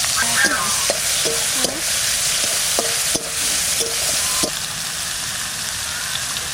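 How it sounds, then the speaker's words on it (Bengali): Prawns rubbed with salt and turmeric fry in a pan, giving a loud, continuous close sizzle with brief stirring scrapes and clicks scattered through. "মাছটা একটু ভেজে নেব"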